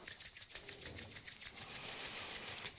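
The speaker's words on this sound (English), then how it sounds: "Rub your hands together." Two palms rubbed briskly together to warm them during a dance and breathing practice, making a soft, close, rhythmic swishing friction in repeated strokes, faint and with no talk.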